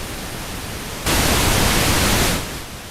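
Broadband pink noise test signal through a mixing console's left-right bus, a steady hiss that jumps sharply louder for over a second, then drops back to its earlier level.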